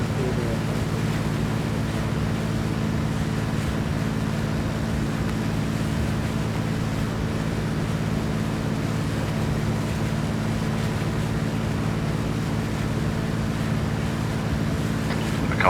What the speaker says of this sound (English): They can't hear us over their own engines.